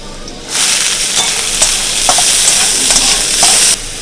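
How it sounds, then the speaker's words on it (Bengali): Onions hitting hot white oil in a wok with ginger and green chilli already frying, for chicken momos; a loud sizzle bursts in suddenly, holds steady with stirring scrapes, then stops sharply. "তারপরে দিয়ে দেব পেঁয়াজ।"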